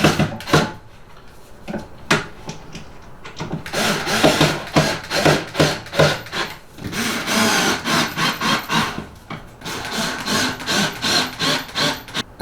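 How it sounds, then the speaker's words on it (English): Screws are driven into the wooden legs of a TCHOMENY record player stand, producing close, rhythmic rasping and creaking strokes of wood under strain, some in quick runs and others more spaced out, with no speech. "Once all 4 of these legs have their first 3 screws, go back around and place 2 additional screws in the centers."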